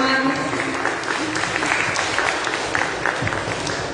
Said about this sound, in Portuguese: uma salva de palmas ao Senhor, amados.